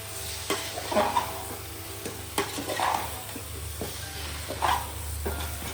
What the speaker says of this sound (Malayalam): ലാസ്റ്റ് നമ്മൾ മാരിനേറ്റ് ചെയ്തിട്ട് ചിക്കനാണ് ചേർക്കുന്നത്. പിന്നെ നന്നായിട്ടൊന്ന് മിക്സ് ചെയ്യാം.